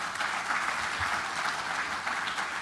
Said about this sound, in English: I request everyone to carry this with a loud applause for both speakers